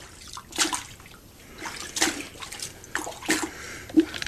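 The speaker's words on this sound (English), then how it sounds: "the plunging action has forced the water and the detergent" Water and detergent slosh through clothes in a homemade 5-gallon bucket plunger washer, with several distinct surging splashes at irregular intervals, close and fairly loud.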